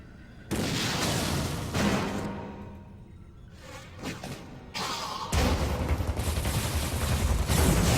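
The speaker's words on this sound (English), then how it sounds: "Why not say hello with a missile?" A missile launched in the Wii game Metroid Other M, a loud burst and whoosh that cuts in abruptly, fades, then gives way to another dense roaring blast.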